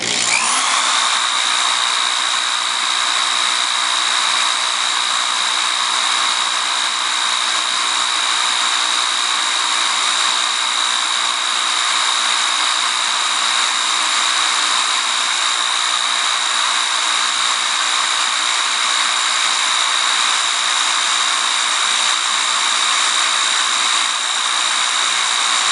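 A Singer 221 Featherweight sewing machine motor runs on test with its brush unseated on the commutator, giving a steady, loud, high-pitched whine with a constant electric buzz that spins up at the start and holds without a break.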